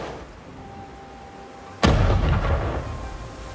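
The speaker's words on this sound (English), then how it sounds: "my method for making explosions, which you can use on weaponry, like this rocket launcher that I'm using" A rocket launcher explosion effect from the PS5 game Dreams: a quiet stretch, then one sudden loud blast followed by a rumbling roar that slowly fades.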